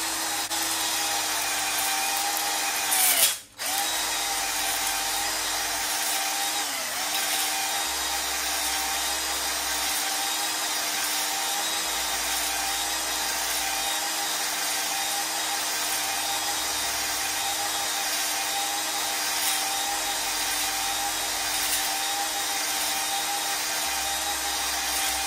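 A flex ball hone spins inside a cylinder of a small-block Chevy engine block, making a steady, loud grinding whir with a rhythmic rasp as it strokes up and down, broken once by a brief pause near the start.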